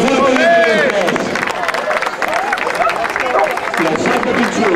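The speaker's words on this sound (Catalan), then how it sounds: "Un fort aplaudiment per les tres." Audience clapping for the three category winners at a Canicross race event in Sant Llorenç, a moderate burst of applause from a crowd mixed with voices and chatter.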